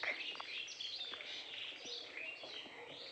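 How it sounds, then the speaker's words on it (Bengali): Several birds chirp and twitter in quick, overlapping calls along a village path, lively and fairly close, with no talking. "মনোরম পরিবেশ চারিদিকে পাখির কিচির মিচির ডাক"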